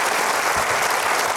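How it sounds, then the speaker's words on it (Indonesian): A studio audience applauds, a dense, even wash of clapping that fills the whole moment without pause. "Kita berikan aplaus untuk Chane."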